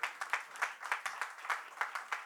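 Audience at a Hindi album release event in Kolkata clapping in short, bursty rhythmic waves, fairly faint and without speech over it.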